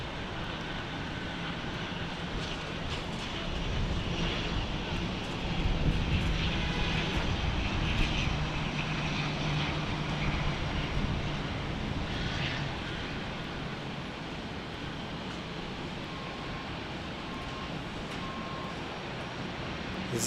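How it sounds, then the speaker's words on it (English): A Silver Airways ATR turboprop airliner rumbles steadily at an airport, a broad engine drone that swells slightly and holds, heard at moderate distance with no talk. "There it is, the old ATR, a Silver Airways ATR."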